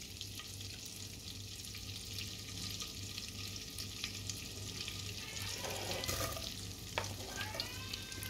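Margarine or butter sizzles and fries steadily in a pan while sautéing for Turkish bulgur with chicken, with occasional stirring scrapes and a few utensil clinks near the end.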